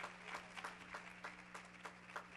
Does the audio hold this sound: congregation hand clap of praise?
yes